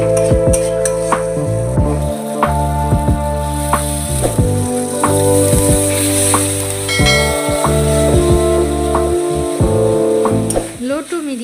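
Spice masala for a white paneer gravy frying with a splash of water on low heat, a continuous loud sizzle and bubbling with scraping stirs, over a background tone and no clear speech.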